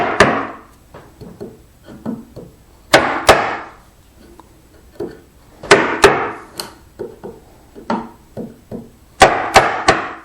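Hand-tool mortise chopping in a leg of an English-style Nicholson workbench: sharp, loud mallet strikes on a chisel come in spaced clusters, single and doubled blows, with lighter taps and brief ringing between.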